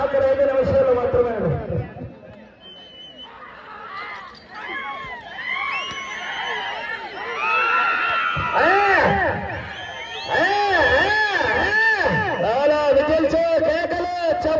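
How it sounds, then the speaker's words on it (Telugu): Spectators at a bullock cart race shout, whistle and cheer continuously, with excited voices and whoops rising and falling in a loud, dense crowd roar, and an announcer's voice talking over it. "విజల్చే కేకలు చప్పట్లు."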